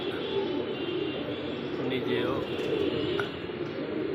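Pigeons coo in low, murmuring phrases that blend with a steady background hum, with occasional brighter chirps over a near-constant level.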